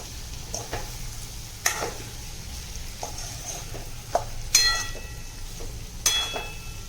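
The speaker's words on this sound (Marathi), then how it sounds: "आता करूया आपण ते फ्राय" Chopped boiled egg chutney fries in a pan with a soft continuous sizzle, broken by several sharp clinks and scrapes of a spatula against the metal.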